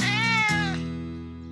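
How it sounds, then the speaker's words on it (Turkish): A cartoon cat meows in one drawn-out, wavering call that breaks briefly in the middle and trails off into a fading tail, loud and close with no talking. "Sen burada kal ve kediyi sakinleştirmeye çalış."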